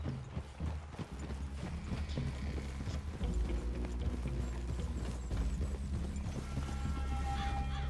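Steady clip-clop of horse hooves trotting in Red Dead Redemption 2, fairly close, continuing throughout with a faint background hum and occasional clatter.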